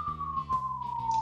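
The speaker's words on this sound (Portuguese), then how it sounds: "isso é os meus bombeiros, caso vocês estejam ouvindo essa sirene" A fire engine siren from a neighbourhood fire station, one long wailing tone sliding slowly downward, fairly close and loud and heard alone throughout.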